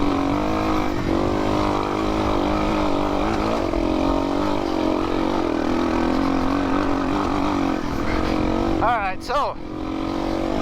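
Yamaha TTR 230 dirt bike engine running steadily and loud throughout, a continuous droning hum with someone talking over it and a brief dip near the end.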